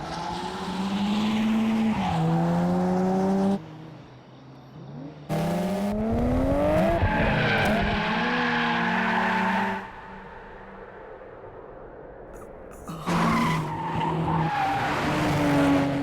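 Two street racing cars, a Mazda RX-7 FD and a black Nissan GT-R, roar loudly with rising and falling engine revs and squealing tires, broken by short near-silent gaps between passes.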